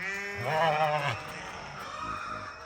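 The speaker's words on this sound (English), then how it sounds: "these black and white sheep seem to do really, really well" A black-and-white sheep bleats close by on a small farm in Ghana, one long wavering cry followed by a fainter, shorter second call.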